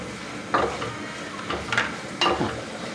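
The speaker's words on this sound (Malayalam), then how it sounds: "അപ്പോൾ ഈ വെളിച്ചെണ്ണ ചൂടാൻ ശേഷം രണ്ട് സവോള കനം കുറച്ചരിഞ്ഞ് വെച്ചിരിക്കുന്നത് അത് അങ്ങോട്ട് ഇട്ട് കൊടുക്കുക" Thinly sliced onions sautéing in hot coconut oil, with a low steady sizzle broken by a few close stirring scrapes against the pan.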